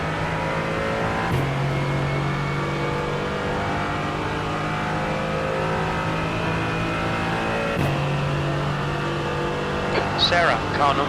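Race car engines drone steadily in the iRacing sim at Road Atlanta, a sustained multi-car roar with sharp gear-change shifts near the start and middle, while a driver talks over it.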